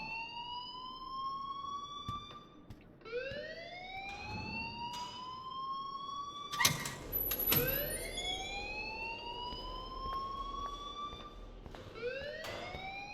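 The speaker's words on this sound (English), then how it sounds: "please turn off that alarm since that's your job." An electronic school alarm in the game Life is Strange repeats in rising, siren-like sweeps, fairly loud and continuous over a low background rumble.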